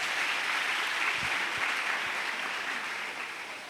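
A church congregation at a Pentecost service breaks into applause in praise of the Lord, a dense, steady wash of clapping that continues throughout and fades slightly toward the end, with a few low thumps.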